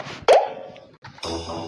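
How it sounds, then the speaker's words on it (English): A person thrown into a deep, empty well lands with one short, sharp splash-like plop, followed by a fading hollow echo, a second soft impact and a brief rush of sound. "they tore off Joseph's special coat and threw him into the well"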